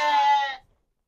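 A single loud, close sheep bleat from an Arashan-breed flock on a farm lasts about half a second, then cuts off into silence.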